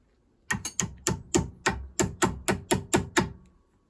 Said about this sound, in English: I'm going to just undo this bolt here.